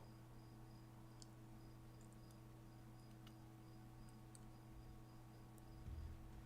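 Crickets chirp faintly in steady, evenly spaced pulses against a quiet, hum-laden indoor background, with a soft bump near the end.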